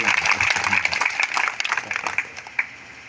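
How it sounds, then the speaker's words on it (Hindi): A church congregation claps loudly for God during a Hindi-language Christian worship service, with dense, crackling applause that thins toward the end. "एक बार जोरदार ताली मारेंगे हम लोग परमेश्वर के लिए।"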